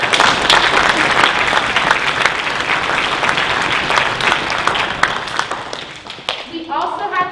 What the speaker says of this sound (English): Oh, we'll give them a round of applause.